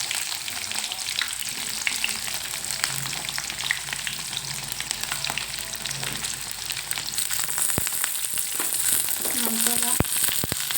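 Curry leaves and onion fry in a pan for tomato sambar, giving a dense, continuous crackling sizzle at close range with occasional stirring, steady and loud throughout.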